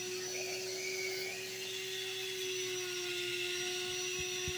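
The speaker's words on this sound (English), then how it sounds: "that's how you sand an opal you're cutting by hand" A small rotary tool grinds an opal during hand cutting and sanding, a steady whining hum with a constant tone that holds throughout at close range.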